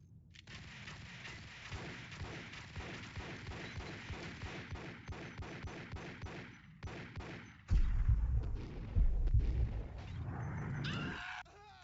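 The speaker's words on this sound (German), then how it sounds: "da wird schon wieder geschossen" Rapid, regular bursts of gunfire in the shooter Max Payne crack one after another, followed by heavier booming impacts and a crash near the end.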